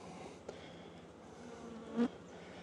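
Honey bees from a caught swarm buzzing in a hive, a steady low drone with one louder bee passing close near the end.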